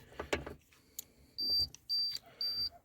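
Three evenly spaced high electronic beeps from a Daewoo Matiz signalling the ignition is switched off, each about a quarter second long, following a few faint clicks and handling sounds of a key in a newly fitted ignition lock.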